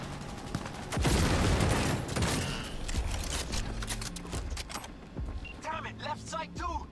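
Heavy gunfire in Cyberpunk 2077 erupts in a dense, loud burst of shots layered with game effects, then eases into a busier mix where a voice talks over the fading fire.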